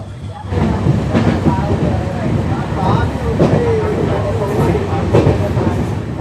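Bikaner–Prayagraj SF Express running on its tracks near Jaipur, heard from onboard as a steady loud rumble with rhythmic clatter throughout, a voice talking over the noise.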